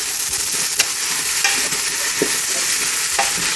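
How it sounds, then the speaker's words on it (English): Potato, parsnip, pear and garlic get stirred in a pot for soup, with a steady sizzle and crackle and a few distinct spoon scrapes and knocks, close up and with no speech. "Add all that in. And we need to basically constantly stir this"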